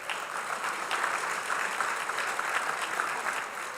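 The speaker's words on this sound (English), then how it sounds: "Give them all a round of applause." Sustained audience applause at a city State of the City event, dense even clapping from a large crowd held at a steady level throughout.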